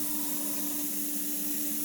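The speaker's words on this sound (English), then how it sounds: "I'm just keeping the air and paint going at a constant rate, and just keep spraying" Airbrush spraying white paint onto an Airfix 1/72 Vulcan model, giving a steady, unbroken hiss of air and paint that holds at an even level throughout, with no talking.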